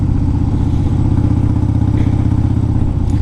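A 2002 Harley-Davidson Dyna Wide Glide with a twin cam engine runs at a steady idle, giving a loud, close, continuous throbbing rumble with no one talking.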